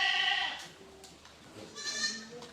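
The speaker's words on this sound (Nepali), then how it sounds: "यो चाहिँ यहाँ दबदबे खाँदै रहेछन् बाख्राहरूले" Boer goats on a Nepal farm bleat in short, wavering calls while feeding on silage in separate pen compartments, two main bleats a second or so apart at moderate distance with no talk.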